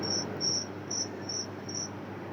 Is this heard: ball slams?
no